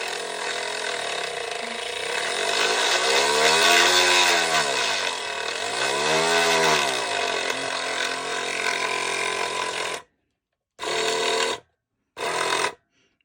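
A custom-built brass case length trimmer runs with a steady, loud motorized whir that rises and falls in pitch for about ten seconds, then cuts out and restarts in two short bursts separated by silence.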